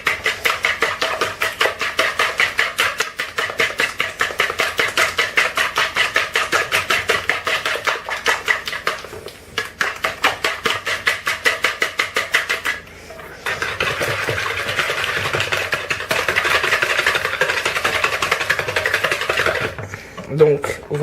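Whole eggs and sugar whisked together in a bowl for an apple cake batter, a fast steady scraping rhythm of a utensil against the bowl, close and loud, pausing briefly midway before resuming.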